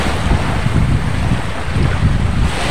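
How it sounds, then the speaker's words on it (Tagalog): Sea waves and wind on a seashore, a loud continuous wash of surf with heavy wind rumble buffeting the microphone, no voices. "Ito lang po ako sa tabing dagat."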